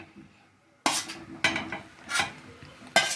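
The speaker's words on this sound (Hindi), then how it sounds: "मूंग की दाल को अच्छे से भूनेंगे ताकि इसका कच्चापन जो है दूर हो जाए" Ground moong dal being stirred and roasted in ghee in a pan, with a few distinct scraping and clinking strokes of a spoon against the metal, spaced apart and close by.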